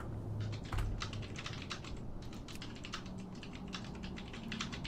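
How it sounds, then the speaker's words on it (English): Rapid, irregular typing on a computer keyboard, a steady patter of faint key clicks in quick bursts with no talking. "I can hear the mage typing a lot"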